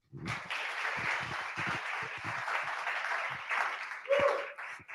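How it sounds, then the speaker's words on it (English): A crowd applauds steadily, dense clapping filling the whole stretch, with a voice briefly heard under it near the end. "give Nancy a round of applause"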